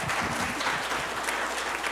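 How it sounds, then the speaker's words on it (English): Audience applause closing a health seminar on heart disease in women, a steady wash of many hands clapping throughout, fairly close and full, with no talk over it. "Let's give them all a round of applause"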